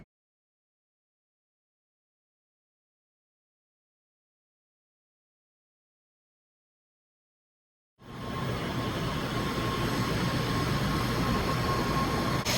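A bullet train riding between Kobe and Osaka, Japan, at night: after a long silence, a steady, loud rumbling roar of the cabin interior begins and continues, with a faint tonal hum running through it.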